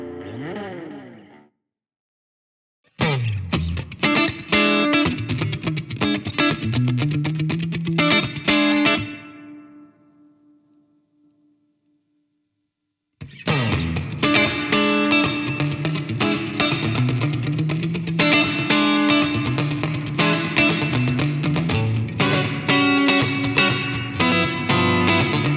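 Electric guitar played through a Fender Mustang Micro headphone amp, with distorted, chorus-laden and echoing amp and effects tones in loud sustained riffs, a short pause with a fading ringing note, then more strumming.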